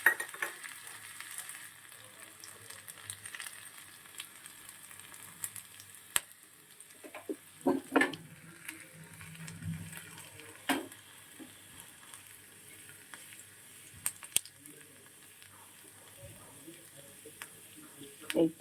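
Finely chopped ginger and garlic frying in hot oil for palong chicken, giving a continuous quiet sizzle broken by scattered clinks and scrapes of a utensil, with brief speech in places.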